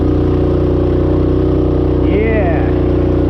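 A Rokon Trailbreaker motorbike engine runs at a steady, loud idle with a continuous low rumble and a brief wavering rise in pitch partway through.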